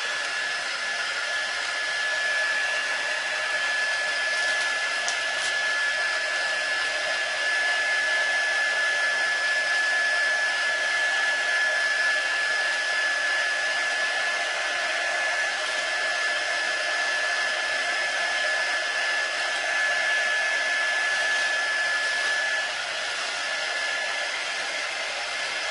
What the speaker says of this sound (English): Very tempted to keep on, you know, placing the heat gun on it